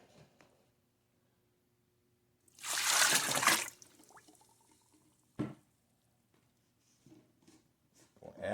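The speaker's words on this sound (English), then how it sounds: "we'll add the water." Hot tap water pours briefly into a sugar mixture for making wine, a short close splashing gush lasting about a second, followed by a few faint clinks and knocks in an otherwise quiet room.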